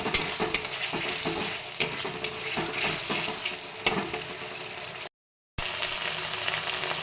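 Fried paneer being stir-fried with spices in a pan sizzles steadily, with sharp scraping and stirring clicks of a spatula at intervals and a brief cut to silence partway through.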